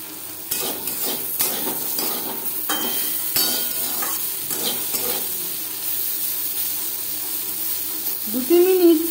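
Bitter gourd stir-fried in a pan with little oil, drying out: a soft sizzle under intermittent spatula scrapes and stirs, close by, ending with a brief higher clatter; no speech.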